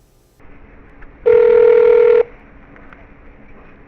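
A telephone ring tone sounds once as a steady, loud electronic burst of about one second in a recorded phone call to the Washington police, with faint line hiss before and after.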